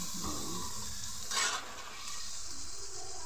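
Potatoes being added and stirred into a frying onion tomato masala: a constant close sizzle with a brief louder splash and hiss as the pieces go in, then steady frying noise.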